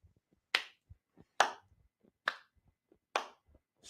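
Four slow, evenly spaced hand claps ring out alone at close range, each crisp and separated by nearly a second of quiet, with a few faint soft taps in between.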